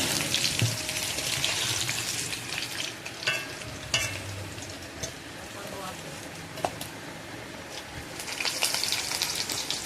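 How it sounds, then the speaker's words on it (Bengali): Steady sizzling of potatoes frying in hot oil over a wood-fired clay stove, with occasional stirring clatter and a soft background hum. "আলুগুলো খুব সুন্দর করে লাল লাল করে ভেজে নেবো"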